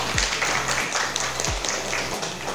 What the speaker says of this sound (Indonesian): silakan tepuk tangan yang meriah